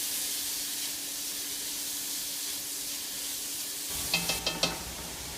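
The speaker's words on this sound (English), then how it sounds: "Now I'm going to cook it until the onion starts to get translucent" Onion, celery, carrots and garlic cook in a pan with a steady soft sizzling hiss, then a few brief clinks and stirring knocks near the end.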